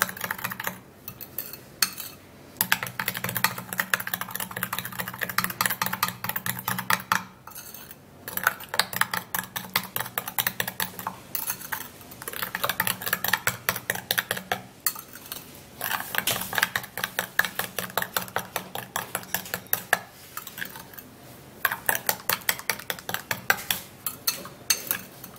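Hair dye and coconut oil stirred together in a bowl, a rapid close clicking and tapping of a utensil against the bowl in bursts with brief pauses.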